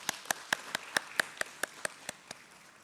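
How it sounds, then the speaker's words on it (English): Sparse, evenly spaced claps during a stock exchange listing ceremony at BSE, about a dozen sharp, separate hits that ring out fairly close and clear rather than merging into a full round of applause. "Let's have a huge round of applause for sir"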